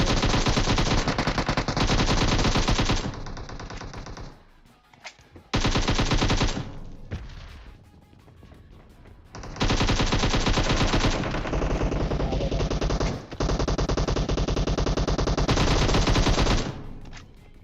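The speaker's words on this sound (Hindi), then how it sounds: "तो मैंने प्री फायर पेल दिया।" Gunfire in the mobile shooter game PUBG Mobile: loud, sustained automatic bursts of rapid shots, broken by short gaps before long stretches of continuous firing.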